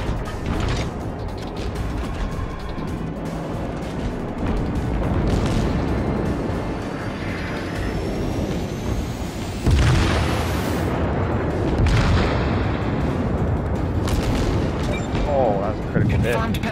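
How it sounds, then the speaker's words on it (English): Naval battle in World of Warships with a battleship being sunk: loud, dense rumbling explosions and booming gunfire roll continuously, with a heavier blast near the middle and mechanical game noise throughout. "battleship sunk."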